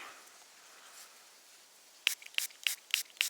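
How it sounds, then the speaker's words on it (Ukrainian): Interkril hemp-scented fishing bait spray pumped from a small bottle while fishing for crucian carp, five short sharp hissing bursts in quick succession after a quiet outdoor stretch. "Зараз ми ще бризнемо"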